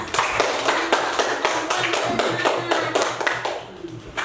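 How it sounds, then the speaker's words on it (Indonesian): Small classroom group clapping in a steady, rhythmic unison beat, close and fairly loud, several hands striking together in regular pulses before fading at the end. "Tepuk tangan untuk Nova"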